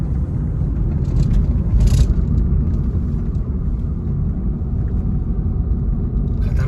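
A black Mahindra XUV500 drives away, heard as a steady low road rumble with tire and engine noise that holds at an even level throughout, with no voices over it.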